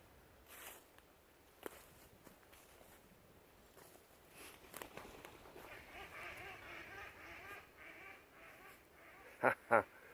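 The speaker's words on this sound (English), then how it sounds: "Quite a few ducks down there." Ducks quack outdoors on a cold morning near a trail, first as faint rustling and scattered footsteps, then two loud, close quacks in quick succession at the very end.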